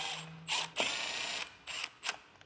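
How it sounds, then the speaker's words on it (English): A hand ratchet tightens oil pump bolts on a Mercedes-AMG M156 V8 engine, a few quick close metallic clicking bursts separated by short pauses. "Oil pump bolts going back in."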